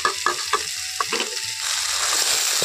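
Mixed vegetables including drumsticks stirred and fried in oil, several clinking stirs of a utensil against the pan, then a steady close sizzle that swells and holds.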